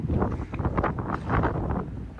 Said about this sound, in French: Là, un petit coup de vent, la caméra qui s'enlève.